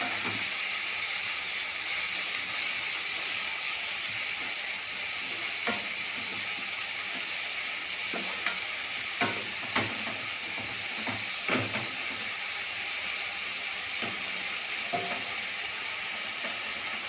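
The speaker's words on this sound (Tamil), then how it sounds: "நல்லா மிக்ஸ் பண்ணி விடலாம்." Spring onion leaves for a poriyal sizzle and fry steadily in a pan, with a constant soft hiss broken by scattered clinks and scrapes of stirring.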